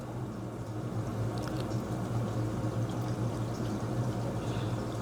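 Water pours steadily during a change of water in a home fish tank, a continuous splashing stream with soft patter, close and unbroken, with no talking.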